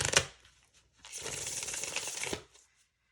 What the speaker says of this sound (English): So I'm just going to shuffle and pull the 4 cards for your spread